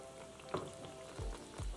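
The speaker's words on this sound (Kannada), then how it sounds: "ಎಣ್ಣೆ ಕಾಯ್ದಿದೆ ಪೇಸ್ಟ್ ಮಾಡ್ಕೊಂಡಿರೋ ಮಸಾಲೆ ಹಾಕ್ಕೊಳ್ಳೋಣ" Masala paste for drumstick gojju hitting hot oil, a soft sizzle with a few low thumps of stirring, fairly faint.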